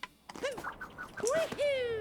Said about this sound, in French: C'est les oiseaux.